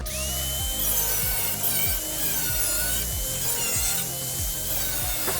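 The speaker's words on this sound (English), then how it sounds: "Now with a grinder, I'm gonna make every cut here again" An angle grinder cuts a sheet metal patch panel for a rusty wheel arch, its continuous whine broken by rhythmic, repeated grating strokes, close and fairly loud throughout.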